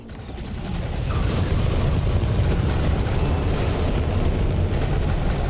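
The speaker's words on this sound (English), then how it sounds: "Pop the torpedoes" Torpedoes launched from a ship in the space game Elite: Dangerous boom and rumble, one heavy blast swelling after a second into a sustained, loud, low roar of explosions that holds to the end.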